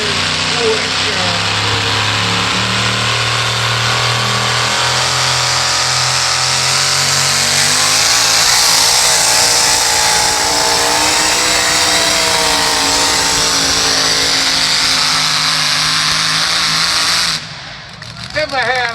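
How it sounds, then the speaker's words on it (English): A pulling truck at a truck and tractor pull launches off the line at full throttle, a loud sustained engine roar that climbs and holds for most of the run before briefly dropping near the end, with an announcer talking over it. "Came off the line there with lots of power, put the full throttle to it when they got over that 100-foot mark"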